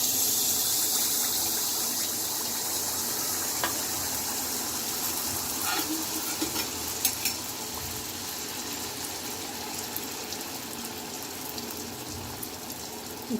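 Rice flour pitha frying in hot oil gives a steady, loud hiss and sizzle that runs without a break, with a few brief crackles scattered through it and no talking.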